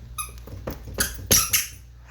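Shoes that squeak like a dog squeak toy give several sharp, high squeals in quick succession as someone jumps, loud and close with uneven spacing.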